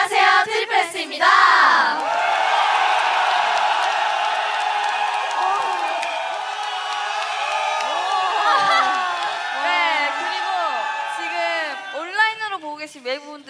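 A concert audience at a K-pop group's show in Seoul roars and cheers loudly for several seconds, with shrill screams rising and falling, while amplified voices of the performers talk over the crowd at the start and end.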